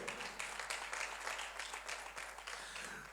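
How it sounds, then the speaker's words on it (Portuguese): Audience applause at a church meeting, a steady wash of many hands clapping throughout, moderately loud and without talk on top. "Mais uma vez, uma salva de palmas para a irmã, por favor."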